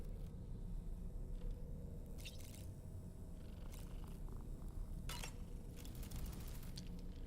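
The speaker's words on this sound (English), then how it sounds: "Is that cat in my room?" A cat purring in the Death Stranding 2 video game, a steady low rumble running throughout, with a few faint clinks and light background noise over it and no talk.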